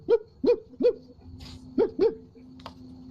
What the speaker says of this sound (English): And the dog still won't shut the fuck up.